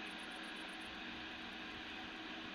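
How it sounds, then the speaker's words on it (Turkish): Airplane engine in the video game Potentia, a steady broadband roar that holds evenly through the whole stretch with no talking over it. "Aha uçak."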